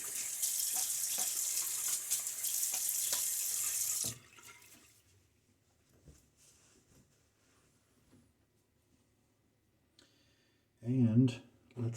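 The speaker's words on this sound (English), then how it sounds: "Splash water on my face." Tap water running into a bathroom sink for about four seconds at a steady, close rush, then stopping, followed by quiet handling noises and a short burst of splashing as water is thrown on the face before a straight-razor shave.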